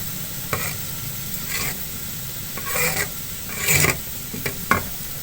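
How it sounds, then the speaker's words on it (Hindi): Khoya being stirred and roasted in a pan for carrot halwa with sugar, a soft continuous sizzle broken by several scraping strokes of the spoon against the pan, close up and without talk. "अब इसको मिक्स करके भून लेंगे।"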